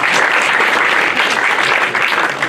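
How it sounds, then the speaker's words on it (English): An improv show audience at a senior send-off claps loudly and continuously in a dense, close burst of applause with no voices over it. "so give yourselves a round of applause"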